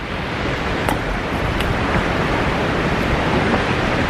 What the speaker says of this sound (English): the wind is just whipping through all this area